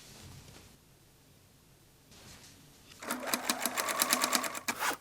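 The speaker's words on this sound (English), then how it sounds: "Stitch the bias tape onto the shoulder raw edge on the sewing machine." A sewing machine runs in a quick burst of rapid stitching, sewing bias tape onto a T-shirt's shoulder edge, after a few seconds of quiet rustling.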